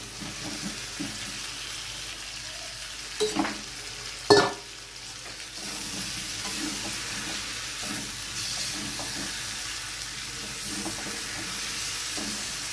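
Fried cauliflower and potato stirred into sizzling masala in a pan for a prawn cauliflower dish, a steady close sizzle with soft stirring scrapes and a couple of sharper knocks on the pan early on.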